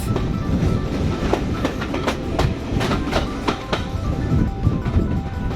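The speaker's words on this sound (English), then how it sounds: "travelling on the UK's only double-track heritage railway" A heritage train rolls steadily along a standard-gauge double-track railway in the UK, with a loud, rhythmic clickety-clack of wheels over track joints and a constant rumbling underneath.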